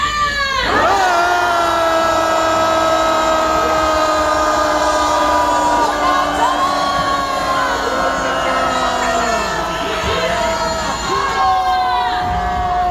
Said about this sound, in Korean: 국회를 향하여 크게 함성 1분간 외치겠습니다!